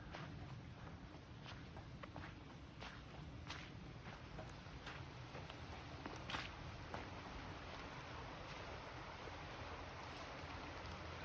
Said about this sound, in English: You can hear the water running down below. The creek's really heavy right now with all the snow melt.